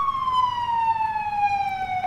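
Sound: police car siren in EmergeNYC video game

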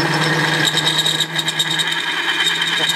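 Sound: drill bit boring into metal

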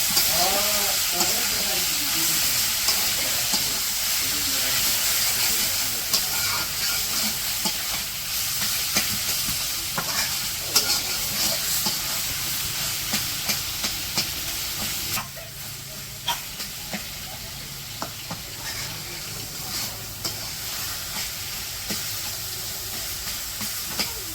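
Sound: leafy greens sizzling in pan with fried garlic and onion

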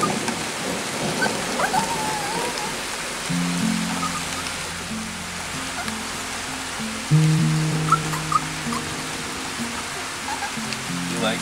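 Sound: thunderstorm with rain and thunder

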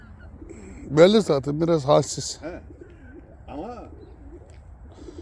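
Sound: pigeons cooing

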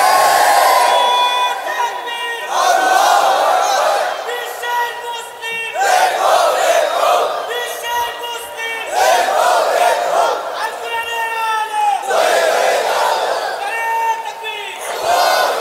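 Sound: crowd shouting takbir response at an Islamic sermon

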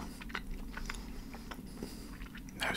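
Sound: eating watermelon Sour Patch gummy candy

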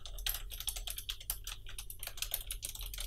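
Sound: typing on Razer Ornata Chroma gaming keyboard switches

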